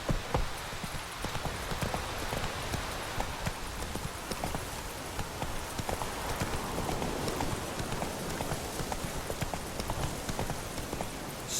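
Roach, a horse in the video game Witcher 3, walks with steady, even hoof clip-clops on a hard surface, the footfalls continuing throughout over a soft ambient background.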